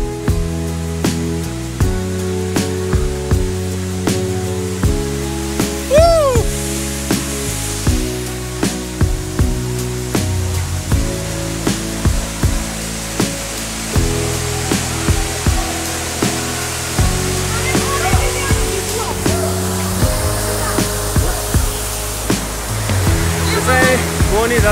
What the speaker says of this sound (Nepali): मोहनी झरना हो